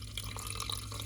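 Water pours steadily into the inner pot of a Zojirushi NP-HCC10 rice cooker, filling it to the first line: a soft, continuous trickle and splash with no talking.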